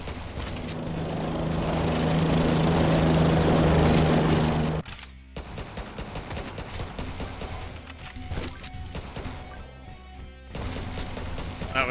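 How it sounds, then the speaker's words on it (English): A helicopter in the zombie survival video game Yet Another Zombie Survivors: a loud, steady whirring rotor drone swells for about five seconds, then cuts off into clattering, mechanical game sounds. "Oh, that's a terrible helicopter."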